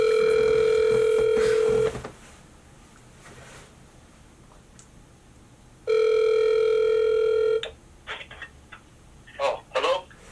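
Telephone call audio begins with a loud steady dial tone, then silence, then a burst of touch-tone dialing beeps and a brief ringback before a voice line opens, heard close and clear over a phone line.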